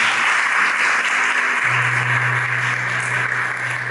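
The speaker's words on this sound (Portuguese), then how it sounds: "Dá uma salva de palmas para essas pessoas que estão vindo." A church congregation at a Catholic prayer meeting breaks into dense, sustained applause that fills the room evenly, joined midway by a steady low electrical hum.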